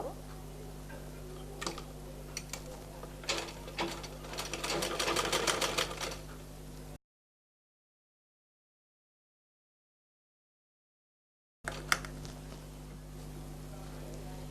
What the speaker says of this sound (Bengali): এখানে আমি এই ঠিক এই পট্টিটার উপর একটা সেলাই করব